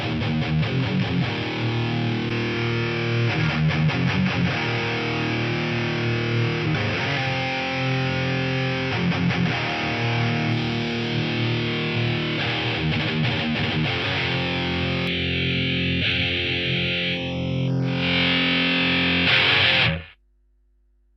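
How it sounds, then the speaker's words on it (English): A guitar running through a Korg A3 exciter effect plays a dense, distorted, bright strummed passage, steady and loud throughout, with a swept filtering shimmer near the end before it stops suddenly. "Let's hear what the exciter does"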